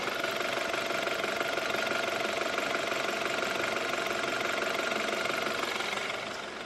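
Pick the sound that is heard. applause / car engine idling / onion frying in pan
car engine idling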